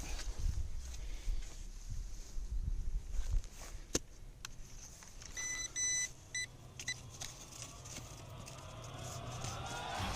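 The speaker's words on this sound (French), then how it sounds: "J'ai un bip là." Short electronic beeps from a metal detector sound in a quick cluster midway, faint against scraping and rustling noises, followed by a steady low hum.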